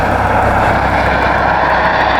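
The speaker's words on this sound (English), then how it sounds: "Well, the helicopter." Helicopter flying overhead in an industrial Ohio city, a loud, steady engine and rotor roar that stays constant and close throughout with no talking.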